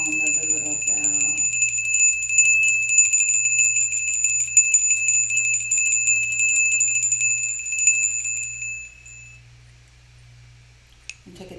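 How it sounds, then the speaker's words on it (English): A small bell rings out for sound healing, with a sustained shimmering tone that lingers for most of the stretch under a low steady hum, after a brief voice at the start, then fades with a faint tap near the end. "just tune into the sound of the little bell."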